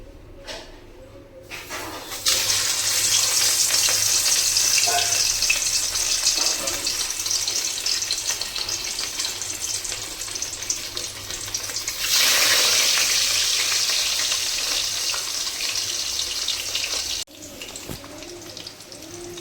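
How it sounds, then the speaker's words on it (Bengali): Rohu fish pieces frying in mustard oil in a wok, a loud, dense sizzle that bursts in after a quiet start, swells again midway and then drops off near the end. "তারপর মাছগুলোকে একে একে ভেজে নেব"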